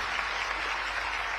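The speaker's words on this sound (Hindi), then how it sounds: "एक बार भरपूर तालियां आगे से पीछे तक हम सभी के होना चाहिए" Dense audience applause at a formal event, many hands clapping steadily in an even, sustained wash for its full short length.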